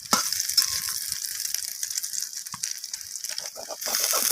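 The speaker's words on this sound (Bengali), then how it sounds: "তো এইভাবে আমি বাকি ডিমটাকেও ভেজে নেব" Egg fries in mustard oil in a wok while a bottle gourd and egg dish is cooked, making a soft, bright sizzle with small taps and scrapes throughout.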